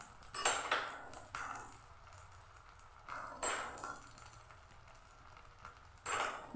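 Egg chilli being stirred in a pan with tomato sauce, chilli sauce and soy sauce, giving a few scattered clinks and scrapes of a utensil against metal, close and fairly quiet, with no talking.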